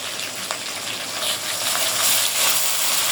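Spice paste of ginger, cumin, coriander and onion paste frying in a pan for a chicken roast with coconut and poppy seed, a steady close sizzle that swells slightly as it is stirred, with no talking.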